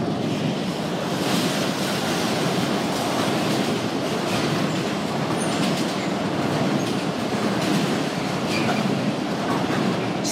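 Locomotive 66047, hauling a freight service, passes under a station footbridge at Lincoln in a steady, loud rush of wheel and wagon noise with faint clickety-clack throughout.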